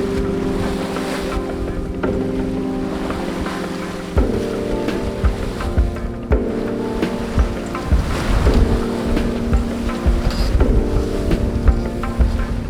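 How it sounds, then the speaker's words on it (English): A sailboat tacking out on the Indian Ocean, with loud, steady wind rush and water noise, a low engine-like drone, and creaks and knocks of the rigging shifting as the boat turns. "the time has come that we're tacking back out away from land"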